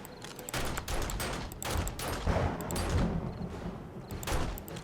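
Dense, rapid gunfire rattles almost nonstop through a horde-night fight in the survival game 7 Days to Die. Loud overlapping bursts of shots and explosions come with no talking.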